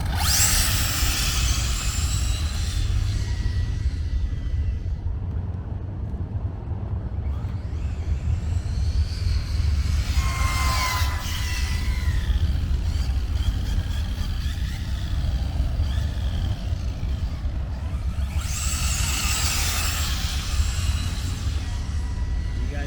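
An Arrma Vendetta 4s RC car on a speed run, its electric motor whining up in high-pitched bursts as it accelerates with wheel spin from the start, rising and fading as it passes, over a constant outdoor rumble.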